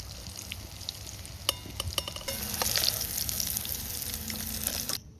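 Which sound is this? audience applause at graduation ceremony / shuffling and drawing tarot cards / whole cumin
whole cumin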